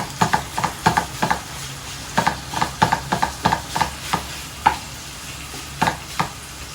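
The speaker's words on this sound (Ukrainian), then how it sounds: "Поки там м'язко у нас смажиться" Meat fries in a pan with a steady sizzling hiss, punctuated by repeated scraping and tapping as it's stirred, close and continuous with no talking.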